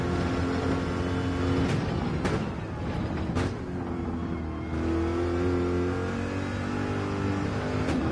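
Onboard a Corvette GT4 race car in a sim racing game at Barcelona, the engine screams steadily on throttle. It drops briefly on quick shifts, then climbs again through rising and falling revs.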